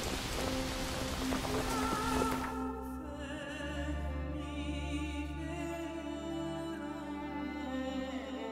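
Steady rain hisses in The Witcher 3: Wild Hunt for a couple of seconds before music rises and takes over, leaving the rain faint underneath.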